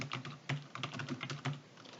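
Quick bursts of computer keyboard typing as a name is entered into an Excel spreadsheet, close and fairly quiet, with uneven clusters of keystrokes and no talking.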